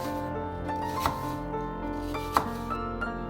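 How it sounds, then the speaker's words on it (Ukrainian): A knife cuts large apples for apple buns on a board, giving a few sharp, isolated taps over steady background music. "А тим часом можемо нарізати 6 великих яблук."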